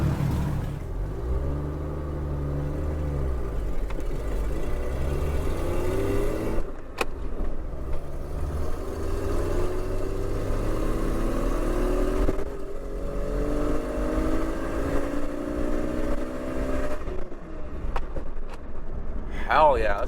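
A Jeep pulls hard at full throttle, its engine rumbling low and rising in pitch through several long climbing sweeps, loud and close, while people talk over it.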